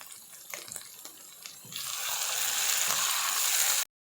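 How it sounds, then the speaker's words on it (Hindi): Water poured into a pan of frying fish curry to make gravy, starting with faint clinks and sizzle, then a steady rushing pour that runs loud for about two seconds before stopping abruptly. "यहाँ पे इसमें डाल देंगे ग्रेवी के लिए पानी।"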